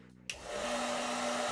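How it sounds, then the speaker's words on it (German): A hair dryer blows on a dog in the video game Animal Shelter Simulator, switching on abruptly after a brief pause and then holding a steady, loud whirring hum with a constant tone. "Jetzt muss ich ihn föhnen."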